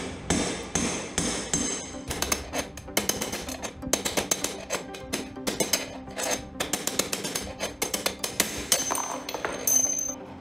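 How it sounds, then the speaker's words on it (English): Metal steering cups being driven out of a TVS Ntorq scooter chassis with a large screwdriver, a long series of sharp, ringing metallic hammer blows, close and loud, in an irregular rhythm with brief pauses. "As before, it should be slowly beaten in multiple places."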